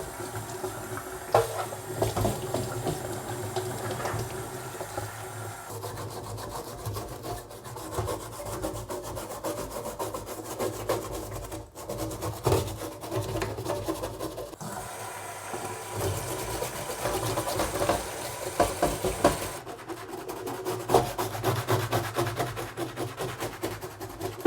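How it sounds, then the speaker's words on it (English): Commodore 64 breadbin circuit boards are scrubbed with a brush, dish soap and warm water: continuous close rasping, rubbing strokes with wet swishing, steady and fairly loud, with no talk. "just going to wash these with some dish soap and brush and"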